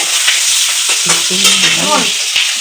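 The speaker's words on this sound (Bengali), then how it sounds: "এরকম মাছ ভাজা করছি" Fish fries in a pan over a wood-fired clay stove, a loud, close, continuous sizzle and crackle of hot oil with a few brief tonal squeaks as the pieces shift.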